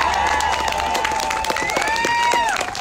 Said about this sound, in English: Yes, you can clap for our president.